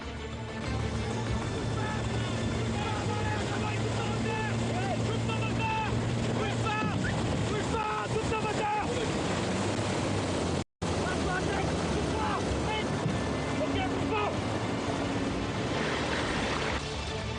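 Gendarmerie jet skis speed over successive waves around a pirogue, their engines droning steadily and loudly throughout, with wind and water noise and a brief break partway.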